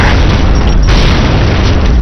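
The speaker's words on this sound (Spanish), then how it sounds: "¡Lanzando granada!" A grenade goes off during a video game clan match, giving one loud, continuous, booming blast of deep rumble that fills the whole moment, with no talk over it.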